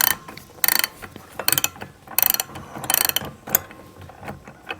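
A bolt being drawn through a rudder pintle fitting on a boat, heard up close as bursts of ratcheting, clicking mechanical turns separated by short pauses, with no voices.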